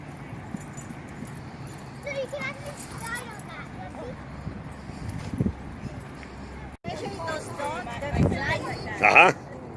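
Dogs move around a dog pen with scattered whimpers, yelps and scuffling over a low background hum, and people talk throughout.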